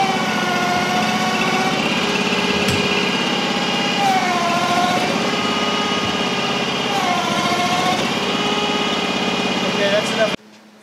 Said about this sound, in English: start your 21 horsepower Honda motor, pull the choke out, push the choke back in.